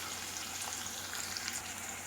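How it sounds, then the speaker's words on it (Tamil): Onions sautéing in a pan as the base for a Tamil tomato gravy (thakkali kulambu), a soft, steady sizzle with faint stirring scrapes, quiet and continuous. "வெங்காயம் நல்லா வதங்கட்டும்."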